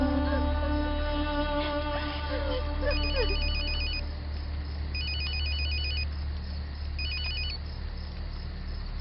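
An incoming call makes a phone ring in three short electronic trilling bursts spaced a couple of seconds apart, heard over a low background drone and faint music.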